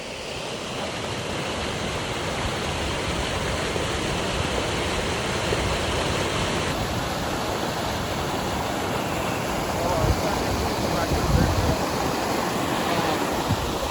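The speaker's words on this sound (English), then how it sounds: "we come across this beautiful waterfall" A waterfall beside a mountain bike trail near Breckenridge, Colorado gives a steady, full roar of rushing water that fills the whole stretch. Faint bumps from the riders come through near the end.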